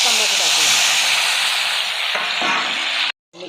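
Tomatoes hit hot oil already holding bay leaf and curry leaves, tempering for misal pav, with a loud, steady hiss of sizzling close by. The sizzle cuts off sharply just before the end.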